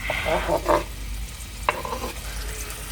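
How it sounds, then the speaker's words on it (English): Onions frying in oil at the start of Nigerian jollof rice: a soft background sizzle broken by a few brief scraping stirs, with a quieter stretch between them. "I went in with some oil and I put in onions"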